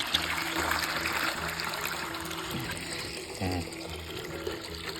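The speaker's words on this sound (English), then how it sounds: "let's get the dogs some water here. Clean out the bucket." Water pours steadily into a bucket nearby, a continuous splashing stream with a faint clunk partway through.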